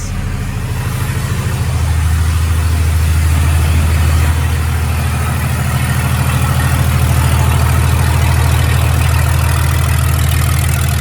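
A naturally aspirated Cummins 5.9 24-valve diesel engine fires up and settles into a loud, steady, low rumbling idle that continues without a break throughout.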